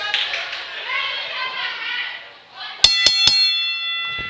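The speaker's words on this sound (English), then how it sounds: "the bell is rung, and we're underway" A wrestling ring bell at a Smoky Mountain TV event clangs three quick times after commentary, ringing out sharply and close, with a commentator talking over crowd noise before the strikes.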